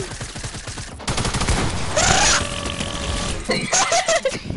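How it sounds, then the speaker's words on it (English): A minigun fires in a video game, rapid bursts of gunfire with mechanical rattling, loud and close, broken into several volleys, with brief voices and laughter mixed in. "He just comes in with the minigun."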